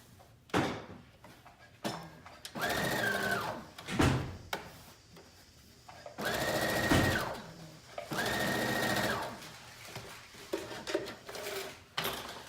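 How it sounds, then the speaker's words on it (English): A sewing machine runs in several bursts of steady whirring while the ends of a New Look 6507 one-shoulder dress are stitched together, broken up by knocks and fabric handling between runs, close by and without talk. "you're just gonna sew these ends together"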